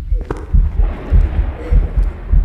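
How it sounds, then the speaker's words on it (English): Heartbeat sound effect in the Phasmophobia ghost-hunting game: a steady series of deep, muffled low thumps, roughly one every half second, loud and close, with no talk over it. "That heartbeat."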